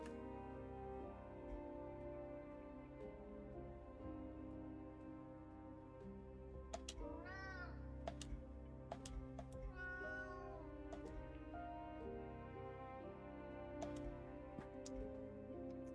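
A cat meows twice in the video game Moonscars, two distinct drawn-out calls a few seconds apart, heard over a steady low game ambience with occasional ticking clicks.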